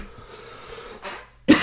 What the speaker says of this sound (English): I don't know why I got the little bit of cough there